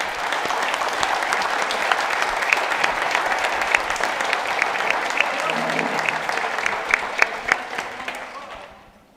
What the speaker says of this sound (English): how about a round of applause for our panelists today?